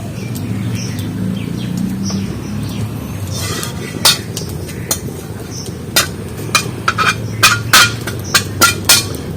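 A small spoon stirring a hair-growth remedy in a metal wok, giving sharp metallic clinks that grow quicker and more regular toward the end, with faint bird chirps in the background.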